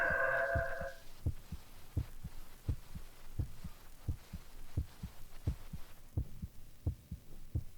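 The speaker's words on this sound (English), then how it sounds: "You hear a heartbeat." A slow, regular heartbeat thumps in paired low beats, steady and close, after a brief tonal hum at the start.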